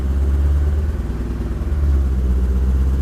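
A 1979 Mercedes W126 500 SE V8 with its rear muffler deleted idles with a deep, steady low rumble and a slight throb, close and continuous throughout.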